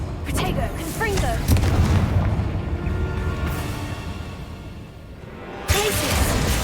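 Bombarda and Confringo explosion spells cast in Hogwarts Legacy, several booming blasts and whooshes mixed with game sound effects and voices, a sharp burst near the end.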